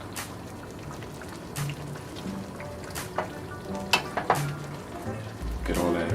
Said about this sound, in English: We'll let that cook for a bit and sizzle.